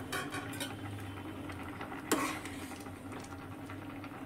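A metal lid lifts off a pot of freshly cooked rice with a single sharp clank near the middle, over a steady low kitchen hum and faint background clatter.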